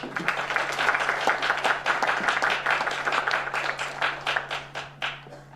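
A church congregation applauds its pastor with sustained clapping, loud at first and then thinning into distinct separate claps toward the end, with a low steady hum underneath.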